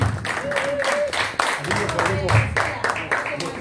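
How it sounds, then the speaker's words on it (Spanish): Audience claps as Uruguayan footballer Julio Trasante is welcomed to a talk, brisk applause in bursts while a voice speaks over the clapping throughout. "Pase Trasante, fuerte aplauso a Julio Trasante"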